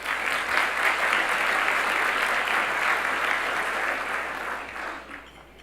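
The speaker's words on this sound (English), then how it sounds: "Please give them a round of applause." Audience at a business event claps for corporate sponsors, a full round of applause that stays strong before tapering off near the end.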